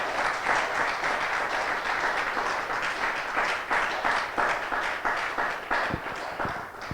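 A church congregation applauds during a Spanish-language sermon, sustained dense clapping from many people, loud and even, with a few sharper nearby claps standing out toward the end.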